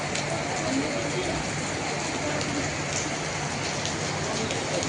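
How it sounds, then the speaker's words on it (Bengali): Heavy rain pours down in a dense, constant hiss, loud and close, with no break from start to finish. "এসেই দেখলাম প্রচণ্ড বৃষ্টি পড়ছে"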